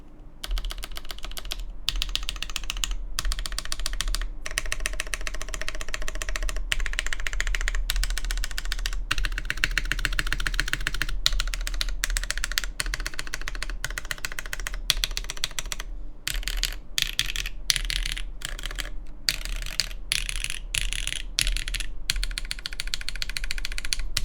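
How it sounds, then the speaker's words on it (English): A modded Vertex Intro S100 gasket-mount mechanical keyboard being typed on, with rapid bursts of crisp, close keystrokes broken by short pauses and a low steady hum underneath. "Numpad keys always sound so nice."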